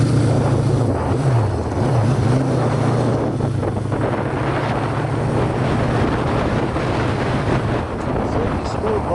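A 1975 Honda CB550K motorcycle, original and low-mileage, idles with a smooth, steady exhaust drone and a low engine hum, recorded close up outdoors with some wind buffeting.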